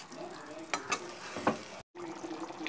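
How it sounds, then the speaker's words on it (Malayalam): Ground coconut paste being stirred into a simmering egg curry, with soft scraping and sizzling, a few brief louder clinks of the spoon, and a momentary break. "നാളികേരൊക്കെ അരച്ച് വെച്ചത് അത് ചേർത്തിട്ട് നന്നായിട്ട് ഇളക്കി"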